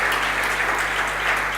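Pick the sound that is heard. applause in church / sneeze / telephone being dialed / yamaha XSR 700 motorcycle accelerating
applause in church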